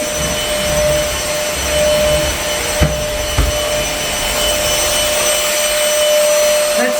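A Trucozie cordless vacuum cleaner runs steadily on its high setting, a loud continuous whine with a fixed tone and a couple of brief bumps midway, heard alone without talk.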